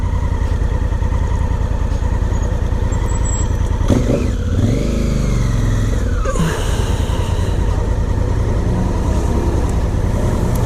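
A 2017 Honda Africa Twin motorcycle climbing a small hill in first gear, its engine droning loud and steady close up with wind buffeting, a brief rise and fall in pitch midway.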